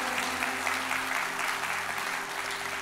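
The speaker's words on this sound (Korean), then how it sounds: "우리 잠깐 일어나시면은 여러분 큰 박수로 한번 격려해 주셨으면 좋겠습니다" A church congregation claps for visiting missionaries, a steady, dense wash of applause from many hands that fills the room without a break from start to finish.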